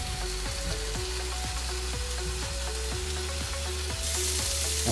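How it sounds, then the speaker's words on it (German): Bacon frying in a pan, a continuous dense sizzle and crackle with a steady hiss throughout, close and fairly loud, with no talking. "Als nächstes Speck anbraten."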